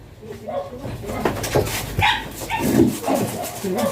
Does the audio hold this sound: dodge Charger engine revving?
no